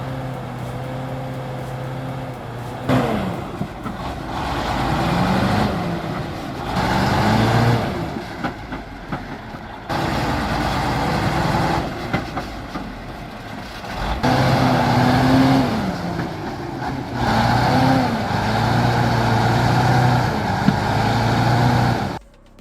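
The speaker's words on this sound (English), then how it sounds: "Nothing beats the rumble of a V8 in the dead of winter." V8 diesel truck engine on an icy winter road at minus 22 degrees Fahrenheit, a loud deep rumble that surges and eases in repeated revving waves over about twenty seconds, with no voices.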